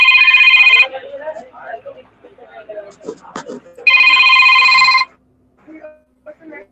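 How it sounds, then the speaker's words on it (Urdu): Telephone ringing for an incoming call, two loud electronic ring bursts near the start and midway, with someone talking in between. "میں ایک کال دیکھ لوں."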